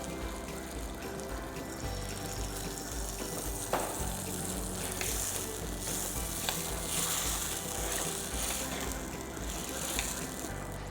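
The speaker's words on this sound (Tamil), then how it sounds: "நான் கரைச்சி வச்சுருக்கிற புளி ஒரு வார்ம் வாட்டரில் அதை இதில் மிக்ஸ் பண்ணுறேன்" Tamarind water is poured and stirred into vandaikkai kara kulambu, a Tamil okra and tamarind gravy, as it sizzles in the pan. A loud, steady fizzing frying sound runs throughout, with the scrape and slosh of stirring close by.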